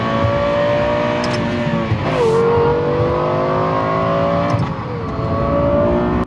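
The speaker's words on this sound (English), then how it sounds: "none can quite match the sonorous shriek of the Lexus LFA" A Lexus LFA V10 engine shrieks close by at high revs, its pitch climbing and dropping sharply between gear changes in a loud, sustained wail.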